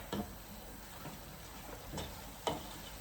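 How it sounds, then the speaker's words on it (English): A spoon stirs callaloo with pimento seed in a cooking pot: a few soft scrapes and knocks against the pot, faint and spaced out, over a quiet low simmering hiss. "Now I'm going to give it a little stir."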